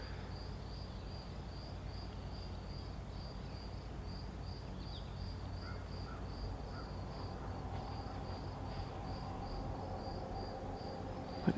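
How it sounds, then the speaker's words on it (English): Insects chirp outdoors around a schoolhouse built on a cemetery, a steady high pulsing trill over a low, constant ambient rumble, faint and continuous throughout with no voices. "Bugs."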